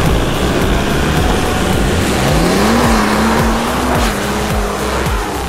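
A Lada Granta car accelerates hard in a race, its engine note climbing loudly in pitch and then leveling off at high revs, with road and tire roar close by.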